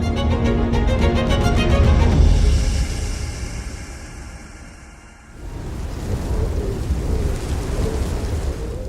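Heavy rain pours steadily at the world's wettest place, with a loud rolling thunder rumble building over the first few seconds, easing, then the downpour surging back strong and close with no voices.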